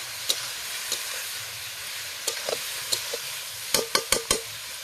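Meat cooking over an open wood fire outdoors in a garden, with sharp crackles and pops from the flames scattered over a low steady background, clustering into a quick burst of snaps near the end; no talking.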